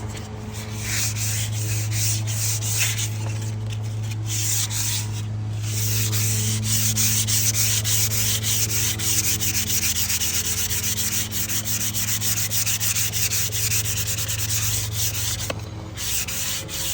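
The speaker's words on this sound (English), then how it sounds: "See, you want to sand this stuff off." Sandpaper scrapes old paint off a wooden rocking chair in continuous rough, rhythmic strokes, loud and close, lasting the whole stretch with no talking.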